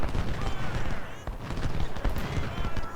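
Musket gunfire in Ultimate General: Civil War, a dense crackle of rapid overlapping shots and volleys that keeps up continuously, fairly close and loud.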